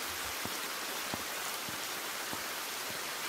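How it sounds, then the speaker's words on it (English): Rain in the video game The Bathhouse falls as a steady soft hiss, broken by a few faint low drips or taps, fairly quiet and constant with no talking. "it's raining"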